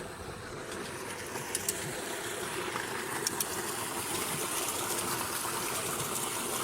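A running water pump sends water gushing out in a steady, faint rushing flow, with a low mechanical drone underneath and a few soft clicks.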